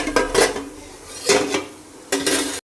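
A lid placed on a cooking pot while food cooks: three clinking metal knocks and scrapes spaced over a couple of seconds, close and fairly loud, with no talk.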